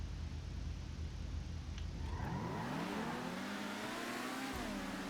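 Car in GTA: The Criminal Enterprises accelerating hard from a low rumble into a rising, revving engine sweep through several gear shifts, loud and close with no talking.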